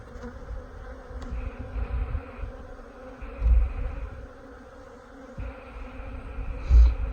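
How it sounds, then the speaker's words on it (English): Honey bees fan at a hive entrance, a loud dense buzzing drone that swells and fades as individual bees pass close, with occasional soft thumps from hive handling and no speech. "Just look at the bees, they're all fanning in real loud on this side."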